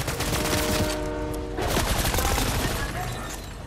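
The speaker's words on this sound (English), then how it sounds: "Why am I shooting my gun?" Rapid bursts of gunfire in the video game Fortnite, loud and close, firing in dense volleys with a short break near the middle.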